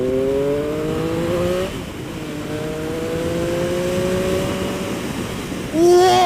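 A Triumph Speed Triple RS motorcycle accelerates hard, its engine note climbing through two long rising sweeps with a brief dip for a gear change, then starting to rise again at the end, loud and close.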